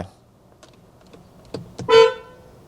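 A few faint clicks, then a single short, loud BMW iX3 car horn toot nearby.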